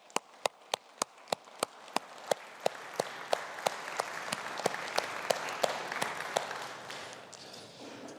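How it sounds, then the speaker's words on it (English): Students applaud university staff at a humanities and social sciences faculty ceremony: a few sharp, separate claps at first, swelling into a dense round of clapping that then fades. "So could I invite our students to applaud the staff as well?"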